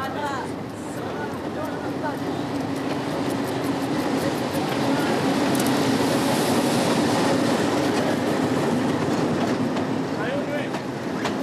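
A train rolling steadily along the rails, a continuous rumbling clatter with faint squeals, loud and close throughout.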